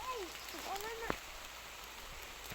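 Rain falls steadily on open farm fields, a continuous even hiss with a sharp tap near the middle, while voices talk over it.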